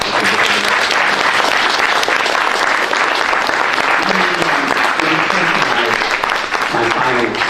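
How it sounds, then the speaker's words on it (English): A large audience in a law school lecture hall breaks into loud, sustained applause that fills the whole clip, with a few voices faintly audible underneath. "by giving him and all other political prisoners a round of applause"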